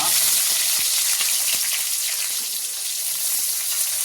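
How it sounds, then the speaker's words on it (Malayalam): Steady sizzling of onions and green chilies frying in hot oil, with a few soft clicks of stirring, close and fairly loud throughout. "പച്ചമുളക് ഇതൊക്കെ നല്ലൊന്ന് വഴറ്റി കൊടുക്കട്ടെ"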